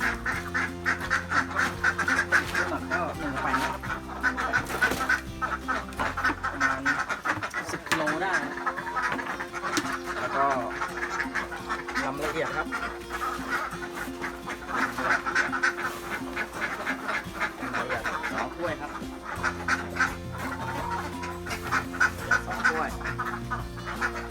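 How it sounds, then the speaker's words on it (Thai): Many ducks quack busily and continuously at a laying-duck farm, close by, with a person talking over the flock at times. "เป็ดมาแล้วครับ"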